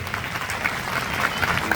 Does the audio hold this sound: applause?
yes